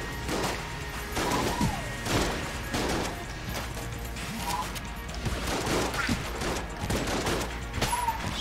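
Dense video-game gunfire from Enter the Gungeon, with rapid bursts of shots and impact crashes repeating throughout under a steady layer of game noise, with no talk.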